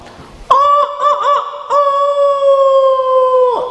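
A voice imitates a rooster crowing, a loud, sustained, strongly harmonic call in two long phrases with a brief break, delivered alone in a room during an Indonesian religious talk.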